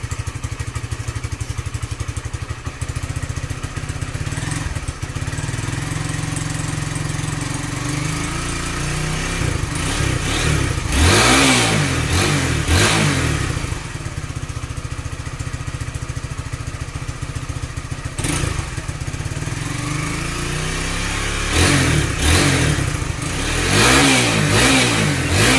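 A Honda Sonic 180cc bore-up motorcycle with a standard exhaust is kick-started, then idles with a steady putter and revs loudly in several bursts, near and without talk.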